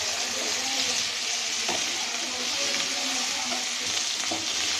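Ginger-garlic paste, cumin and spices stirred in a frying pan, with a steady close sizzle of hot oil and a few soft scraping strokes of the spoon throughout.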